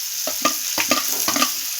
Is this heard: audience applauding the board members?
no